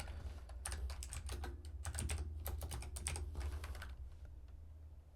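Fast, light keystrokes on a computer keyboard, a steady run of quiet clicks with brief pauses against a low background hum.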